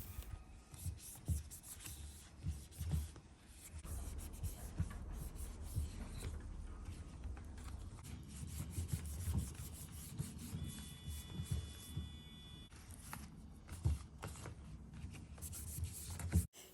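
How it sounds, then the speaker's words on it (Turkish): Orchid leaves are wiped with a neem oil mixture, producing soft, steady rubbing and swishing strokes up close, faint against a low background hum. "Yaprağını sildim."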